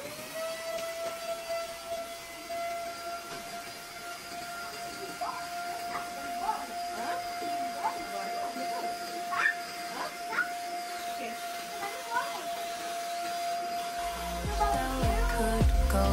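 A vacuum cleaner running as it cleans the floor at home, a steady high whine holding throughout, with faint clatter and voices in the background and a louder rumble toward the end.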